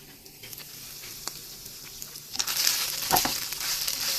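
Butter melting in a pan alongside ground beef, a soft crackle at first that swells into a loud, steady sizzle halfway through, with a few stirring scrapes.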